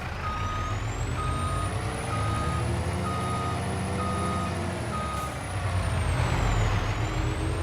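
Dump truck reversing in Farming Simulator 25, a steady repeating reverse beep over a loud diesel engine rumble, with a rising whine and a hiss of air brakes near the end.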